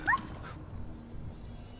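A dog in the video game Fallout 4 lets out a single short, faint bark or yip at the start, followed by low background game ambience.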